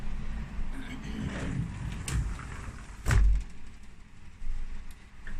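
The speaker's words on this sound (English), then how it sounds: "Let me close the door here." A door is pushed closed with a muffled thump partway through, among low rumbling room noise and a couple of softer knocks; a voice talks quietly in the background.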